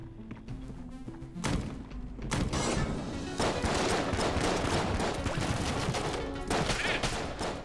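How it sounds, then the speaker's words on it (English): Explosions and rapid gunfire in the Enter the Gungeon game, a dense barrage of bursts and thuds packed together over several seconds, steady and continuous with no speech. "That explosion actually killed him."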